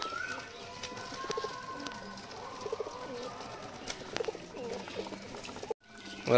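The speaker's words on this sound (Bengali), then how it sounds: "দেখো পায়রাগুলো সব খাচ্ছে, ঠিক আছে।" Pigeons, a mix of homer and local breeds, coo softly and repeatedly while feeding at their loft, with some rustling and light chirps around them and a few muffled movements nearby.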